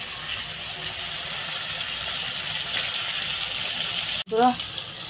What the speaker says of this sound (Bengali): একবারে সব মাথাগুলো আসবে না, যার জন্য আমি দুইবারে করে মাথাগুলো ভাজবো।